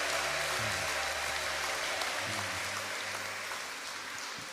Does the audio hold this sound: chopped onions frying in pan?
no